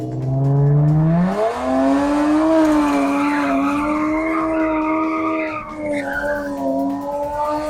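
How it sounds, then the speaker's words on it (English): A stock automatic car with an open differential and no real e-brake drifts, engine revving loudly close by while tires squeal and skid in long sustained wails. "Right now we're drifting in an auto with no real e-brake"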